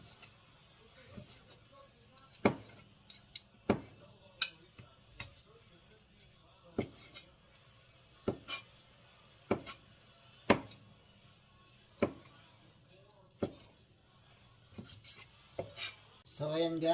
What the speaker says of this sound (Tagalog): So, ayan guys, nagayat na natin lahat.